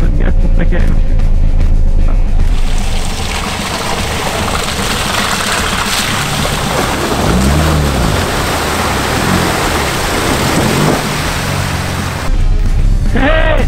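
A Peugeot 205 creeps slowly through deep water, giving a loud continuous wash and sloshing roar over a low engine drone, with the engine note rising briefly midway as more throttle is applied; someone talks in places.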